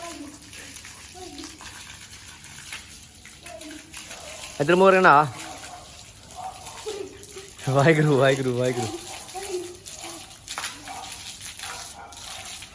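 Cold water splashes and runs continuously while a child is bathed in hot weather, with a voice calling out briefly twice over the steady flow.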